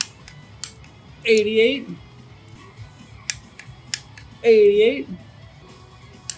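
Faint, sharp clicks of a torque wrench tightening Yamaha YFZ450 engine bolts, scattered between two short spoken counts.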